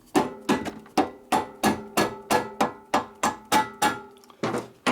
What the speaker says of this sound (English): You can go ahead and give it a tap with a plastic hammer.